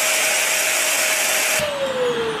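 A Shark Navigator Lift Away Professional NV356E vacuum cleaner runs with a loud, steady broadband whoosh and a high motor whine that drops slightly in pitch, then the airflow noise cuts partly near the end as it is switched off.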